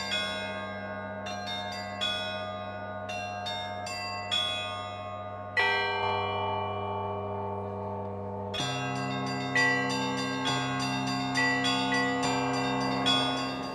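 Russian bells ring in layered patterns, deep sustained tolls under rapid, bright higher strikes, each hit decaying into a rich resonant wash, close and loud with no voices.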